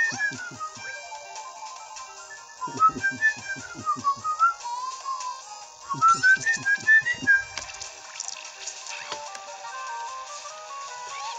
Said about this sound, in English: I can whistle good.